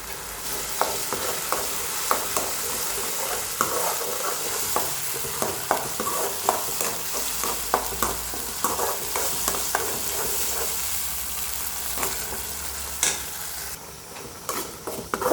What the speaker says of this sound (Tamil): அரைச்ச தக்காளியை போட்டுக்கலாம் போட்டு நல்லா வதக்கிக்கலாம்